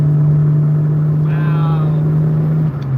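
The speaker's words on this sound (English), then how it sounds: "I actually had to downshift up this hill" A car engine drones steadily at low revs while climbing a hill in a lower gear after a downshift. The hum is loud and close and stays even throughout, with a faint whine passing briefly in the middle.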